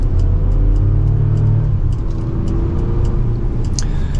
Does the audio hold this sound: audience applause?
no